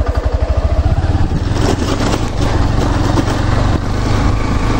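A motorbike engine strains loud and close while pulling uphill in second gear on a trail to Baropkunda near Sitakunda, with a steady, labouring drone under pressure.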